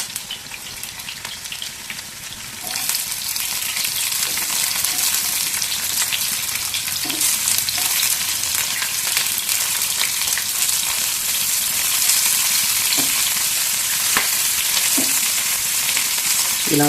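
Chopped green chillies and onions dropped into hot oil with cumin, bursting into a loud, steady sizzle after a quieter opening, with a few light utensil taps, close up and without talk.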